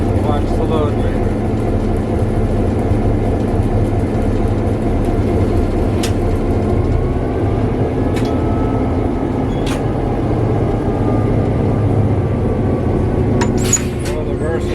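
A locomotive running after its throttle is opened gives a loud, steady engine rumble that holds without a break, with occasional faint clanks on top.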